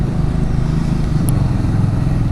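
A Triumph Scrambler 400X motorcycle riding through city streets in Nepal, its engine giving a steady low rumble mixed with road noise, continuous and close throughout.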